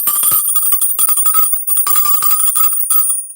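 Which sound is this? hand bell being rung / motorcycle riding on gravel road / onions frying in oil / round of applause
hand bell being rung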